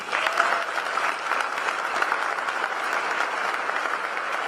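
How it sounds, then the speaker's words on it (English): Steady audience applause for a speaker at a Texas business event, dense and continuous throughout at close range, with no voices breaking through. "One more round of applause for Dr. Perryman."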